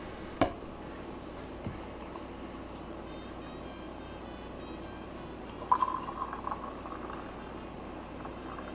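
Boiling water pours from a kettle at afternoon tea, a steady hiss with a few faint clinks and drips, at moderate volume with no voices.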